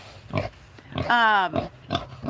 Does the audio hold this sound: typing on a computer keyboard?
no